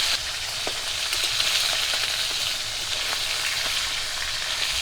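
Carp fish heads fry in oil with a continuous close crackling hiss, no voices, just an even sizzle with faint pops and clicks.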